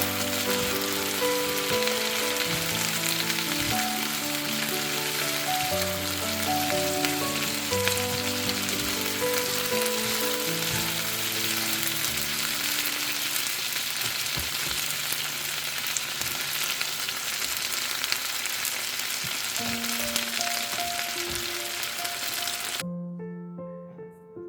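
Cabbage and scrambled egg stir-fry in a pan with a loud, dense, continuous sizzle close up, while background music plays alongside until the sizzle cuts off near the end.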